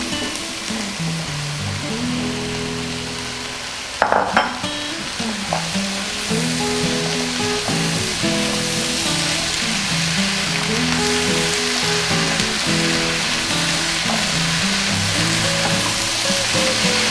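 Leeks and onions fry in a pot with a steady, close sizzle, broken near the start by a brief clatter of stirring; no one speaks.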